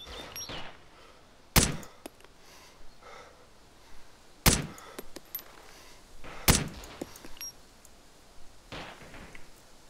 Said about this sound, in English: I know that I'm getting shot at.